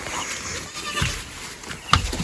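Goats bleat in a Nepali village setting, short calls rising over a busy background with people talking nearby and general outdoor noise.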